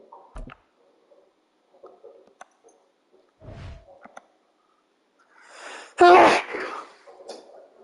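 A single sharp sneeze bursts out near the microphone after several seconds of faint clicks and rustling in an otherwise quiet room.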